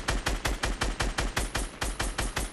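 Gunfire in a Fortnite Battle Royale match, about a dozen loud, evenly spaced shots in a quick steady rhythm, each a sharp crack with a booming low tail, close and with no talk over it.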